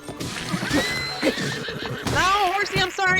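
A horse in the video game Zelda: Tears of the Kingdom gives a loud whinny alongside light hoof clops, and a player's voice talks around it.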